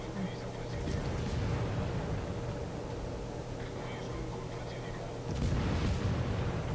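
Naval gunfire from the cruiser Smolensk in the World of Warships game: rumbling salvos boom near the start and again toward the end, heard under ongoing talk.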